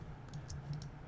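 Computer keyboard typed on in a short burst of light, quick key clicks, faint and close against a low room hum.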